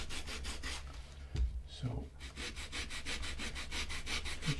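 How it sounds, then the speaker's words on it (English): A sanding block rubs along the edges of two joined pieces of leather in steady back-and-forth strokes, close and rhythmic, with a short pause and a single spoken word in the middle. "If you haven't, then you require more sanding to get the edges nice and flush."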